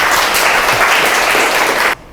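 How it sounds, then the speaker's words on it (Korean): A science lecture audience welcomes a physics professor with loud, sustained applause, close and full, cutting off abruptly near the end. "그럼 박수로 한번 들어볼까요?"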